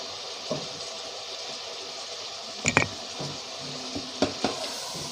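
Chicken green gravy masala is stirred in a pan, soft scraping with a few sharp clinks of spoon on metal against a steady low sizzle, close and fairly quiet.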